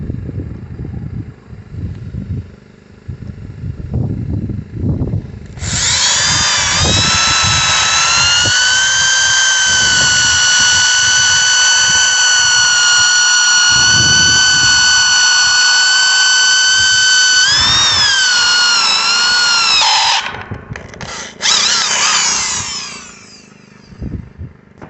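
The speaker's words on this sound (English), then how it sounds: "First of all, we're going to drill this" A power drill bores into a steel well casing pipe for an electric fence insulator, giving a loud, sustained high whine that runs for about fifteen seconds with slight pitch shifts, then stops sharply after a short final burst.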